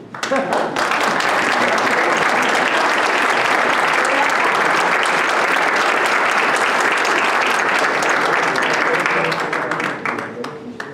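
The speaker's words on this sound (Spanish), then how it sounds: "Pero no aplaudimos a Cristancho" Sustained applause from a crowd, loud and steady for about ten seconds before tapering off slightly at the end.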